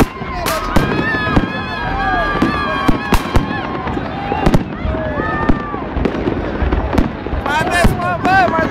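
New Year's fireworks going off in Ploiești, with sharp close bangs, crackling bursts and whistling rockets repeating in quick succession while people talk and shout nearby.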